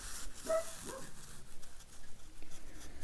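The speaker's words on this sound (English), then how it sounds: "it sounds like he's barking his brains out" Oz the dog barks and whimpers faintly in the background, a few short yips rising over a quiet room.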